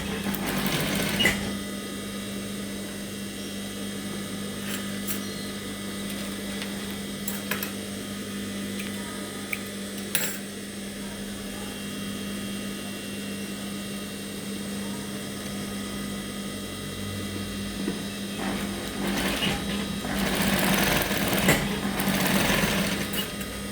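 A sewing machine runs steadily stitching through a paper pattern for a shirt or blouse block, a continuous close mechanical whir lasting throughout with a few brief clicks and no talk.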